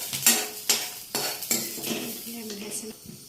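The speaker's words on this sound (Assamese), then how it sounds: "মাছটো অকণমান তেলত এনেকৈ বনাই লোৱা হৈছে" Dried fish frying in a little oil in a wok, with a low sizzle under repeated sharp scrapes and clanks of a metal spatula against the pan.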